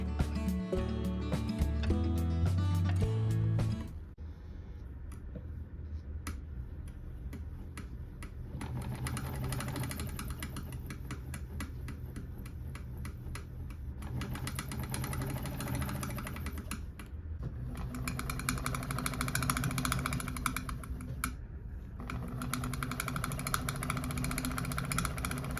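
A Willcox & Gibbs sewing machine stitching upholstery-weight fabric with a corder foot, a fast steady mechanical whir and rapid ticking running nonstop up close, slowing slightly at moments.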